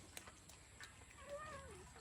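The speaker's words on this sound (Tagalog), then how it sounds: "Lapit na magsalita ang aming pusa." A soft, faint cat meow rises and falls near the end, quiet against a low background hiss with a few small clicks.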